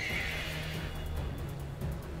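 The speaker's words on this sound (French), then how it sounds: "Ok, combat contre le cheval." A horse-type Pokémon's battle cry in Pokémon Shield, a bright whinny-like call at the start fading into a steady layered backdrop of game music, loud and continuous for about two seconds.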